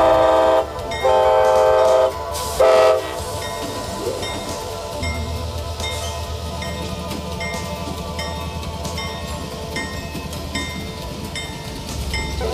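A train horn sounds in several loud blasts, followed by the rumble and clatter of rolling rail cars.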